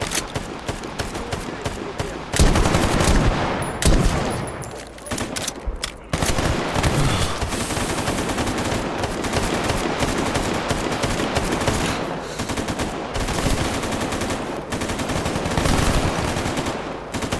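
Dense gunfire in a survival video game, long bursts of rapid automatic shots with brief pauses between volleys, loud and close throughout, with a voice faintly underneath.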